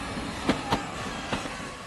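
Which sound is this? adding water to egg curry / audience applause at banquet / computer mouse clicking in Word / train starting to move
train starting to move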